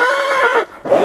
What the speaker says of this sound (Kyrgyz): Жылкы даяр экен көрсөтөлү туугандар сиздергечи